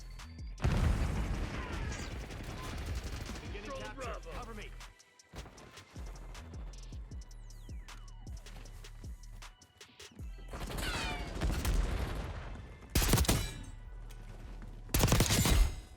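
AEK-973 rifle gunfire in Black Ops 6, with sharp bursts of shots and crashing impacts in the game, some loud clusters near the start and end, while a player talks over much of it.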